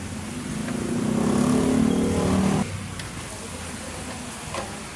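Euro Motor Falcon 180i motorcycle engine revving up close, a loud steady drone that swells for about two and a half seconds, then cuts back to a quieter idle with background noise.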